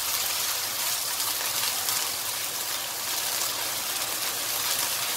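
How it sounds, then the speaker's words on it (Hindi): Water splashed into a pan of light-brown frying onions sets off a steady, loud broadband sizzle and hiss that holds without a break, with no voices. "इसके अंदर हम थोड़ा सा पानी का छींटा देंगे, इसको थोड़ा सा पानी इसमें डालेंगे"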